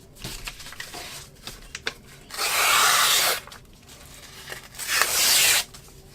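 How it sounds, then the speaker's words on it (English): Pages torn from old books being reused for a storage box, two long, loud ripping bursts of paper with quieter rustling and handling between them, no talking. "I took about 2 or 3, and then you just rip like that."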